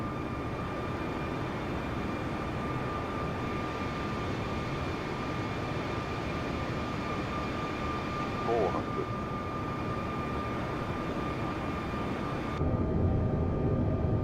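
Airbus A320neo jet engines in Microsoft Flight Simulator make a continuous broadband roar with a steady tonal whine. The sound holds at an even level throughout and shifts slightly near the end.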